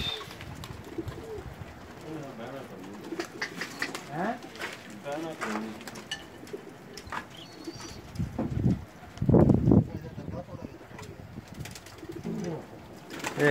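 Pigeons coo in soft, low, repeated calls close by, mixed with someone talking over them.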